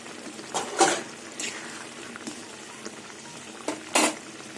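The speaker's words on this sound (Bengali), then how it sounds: "এইভাবে কিছুক্ষণ ফুটবে তারপরে নামিয়ে নেব" Potol kofta curry bubbles in an open pot, giving soft, irregular boiling pops and gurgles with a few louder bursts over a quiet background.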